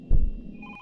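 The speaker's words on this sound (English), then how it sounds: "The phone is going off again!" A telephone rings in the game Is Simon There?, a short, thin electronic ring over a low thump and rumble, with no one speaking.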